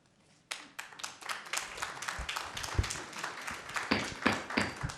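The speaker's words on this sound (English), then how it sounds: "Please, no applause" Scattered applause from a city council meeting audience, a modest burst of irregular claps starting abruptly and continuing unevenly, moderately close and without talk.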